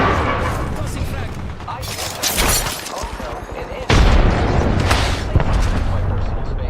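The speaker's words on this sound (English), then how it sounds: "I am taking fire" Gunfire rattles in Apex Legends in repeated loud bursts with sharp impacts and booms, and the barrage intensifies midway.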